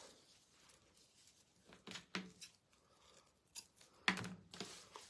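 Scissors snipping through paper or ribbon while crafting a bunny with a bow, a few faint, irregular crisp cuts and rustles, close and quiet.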